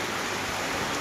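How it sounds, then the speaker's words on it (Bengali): Rain pouring steadily near a seaside beach resort in West Bengal, a dense, even hiss that carries on without a break through the whole short stretch, with no voices. "জঘন্য পুরো বৃষ্টি হচ্ছে"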